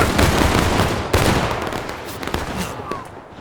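Musket volley in the War of Rights video game, a dense burst of overlapping loud gunshots at the start with further scattered shots following and fading into a lingering rumble.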